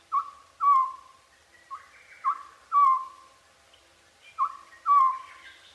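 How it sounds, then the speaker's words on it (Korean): A collared scops owl calls at night in the Upo wetland in summer, its clear, slightly downslurred whistled notes repeating alone at a steady pace, close and distinct against silence. "큰 소적새."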